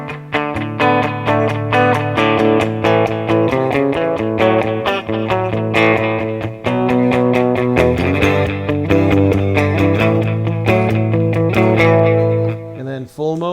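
Tele-style Tease SBH-E electric guitar played through its bridge pickup in split mode, a bright, clean-to-slightly-driven run of rapid picked notes and chords, loud and close, ringing out alone before a brief pause at the end.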